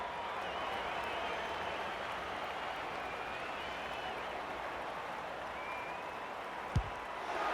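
Crowd at an Australian football match in the VFL, Melbourne versus South Melbourne, applauding and cheering as a steady, distant wash of noise with a single sharp thump near the end.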